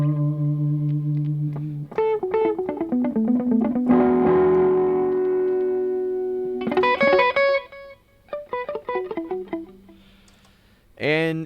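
Electric guitar played through a delay pedal on a studio pedalboard, with picked notes and chords followed by repeating echoes that trail into the background, loud and close with short pauses between phrases.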